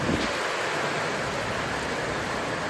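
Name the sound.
strong wind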